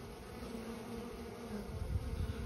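Honeybees return to the hive in a steady, dense buzzing hum that holds close and even throughout, with no voices.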